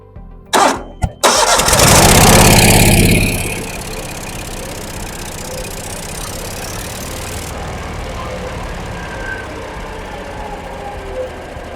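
A 6-inch brush cutter's engine cranks and catches with a loud burst of sharp cranking noise, roars for about two seconds, then drops into a steady, quieter idle that runs on alone.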